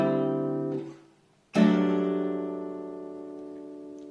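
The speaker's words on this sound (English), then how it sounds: "So there is a 9th extension in every chord that I just play in the 251 I play." Two jazz piano chords with added 9th extensions, each struck and left to ring out, sustained and fairly loud with a short gap between them, as part of a 2-5-1 progression.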